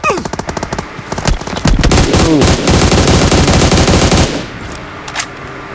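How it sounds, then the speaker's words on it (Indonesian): Rapid automatic gunfire from a PUBG Mobile battle, loud bursts of dense repeated shots with brief pauses, ending in a few faint trailing shots. "Nembak apa ini? Nembak tidak kena terus."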